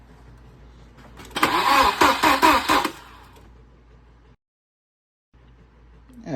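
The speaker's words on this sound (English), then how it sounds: "Go for a little bit longer this time so I can hear if all cylinders sound the same." A rebuilt Volvo B230 engine cranks and catches with a loud burst of starter whir and rough firing, then settles to a quieter idle, goes briefly silent and starts to rise again at the end.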